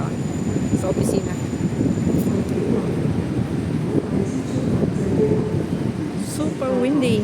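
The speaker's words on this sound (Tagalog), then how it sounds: "Super windy and cold." Strong, cold wind outside an exhibition centre gives a loud, continuous rumbling roar with gusty buffeting, and a voice speaks faintly now and then beneath it.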